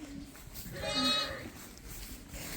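Lambs in a pen give a single faint, wavering bleat about a second in, with soft rustling farm background around it.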